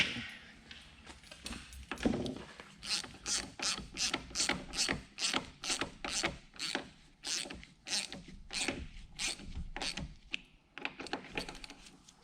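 A ratchet wrench clicks in a steady series of rhythmic strokes while screws are tightened on a Spicer 1710 half-round universal joint, close and distinct with brief pauses between pulls.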